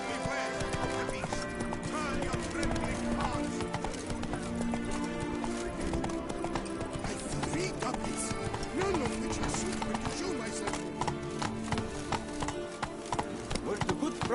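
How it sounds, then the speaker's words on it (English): A horse gallops in The Witcher 3, with rapid hoofbeats pounding continuously under a dense mix of game music and ambience, and a voice speaks over it. "Run, Roach."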